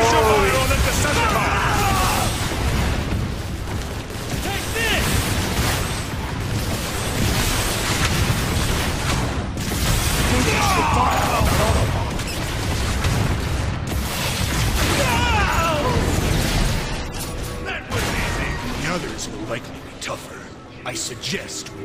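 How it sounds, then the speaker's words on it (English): A missile fired in the Transformers: War for Cybertron video game, dense booming blasts and explosions dominating a loud, continuous mix of game effects. "Wait, do I have missiles? Yes, I do. It'll take my missile."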